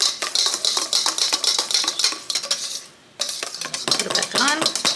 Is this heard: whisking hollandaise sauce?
yes